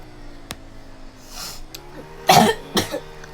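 A person coughs in the background during a game: two harsh, close bursts, the second followed by a shorter rough echo, over a quiet steady hum.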